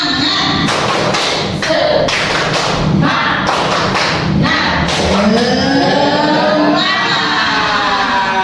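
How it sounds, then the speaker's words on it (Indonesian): A group of mothers in a school audience claps the rhythmic 'tepuk semangat' pattern. Loud, sharp claps come in quick patterned bursts with short pauses between them, and voices shout along under the clapping. "sekarang bagaimana kalau saya minta ibu-ibu di sini untuk tepuk semangat?"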